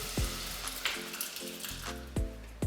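Peas and tomatoes sizzle quietly in a hot pan for a bean curry, a soft steady frying hiss punctuated by a few sharp knocks of a utensil against the pan.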